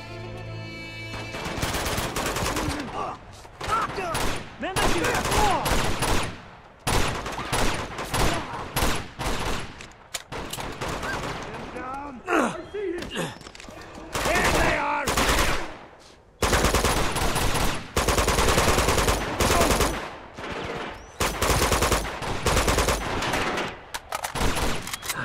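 Rapid gunfire in Uncharted 2: Among Thieves (PS4), loud repeated bursts of automatic fire and single shots arriving in clusters with short gaps over roughly twenty-five seconds, with occasional game effects between volleys.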